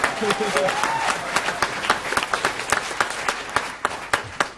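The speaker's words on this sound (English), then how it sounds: "If you could give them all a round of applause." An audience at a debate event breaks into sustained applause, many hands clapping at once with some individual claps standing out, a voice briefly audible at the start.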